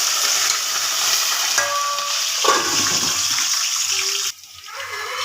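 Green chilies and onions hit hot oil already holding cumin, shahjeera, cardamom, cloves and cinnamon, giving a steady close sizzle with occasional stirring scrapes that shift in texture near the end.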